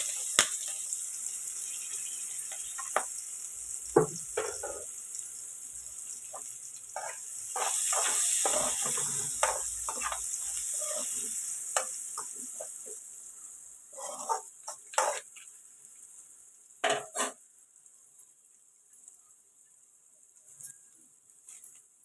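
Onions, green chillies and a bay leaf fry in hot oil in a pan, giving a faint steady sizzle broken by scattered pops, stirring clicks and louder spatters.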